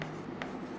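Chalk or marker scraping across a board as a chemistry lesson is written out, a brief close rubbing stroke lasting under a second.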